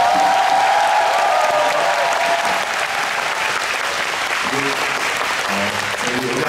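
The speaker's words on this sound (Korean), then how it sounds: "공연 기획을 맡아주신 저희 스프링 ENT 분들께 박수 한번 부탁드립니다." A concert crowd applauding continuously and loudly for the event's organizers, a dense steady wash of clapping with faint voices mixed in.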